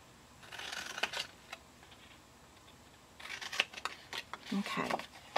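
Scissors snipping through a paper bakers box template, with bursts of crisp cutting strokes near the start and again toward the end, separated by a quieter pause.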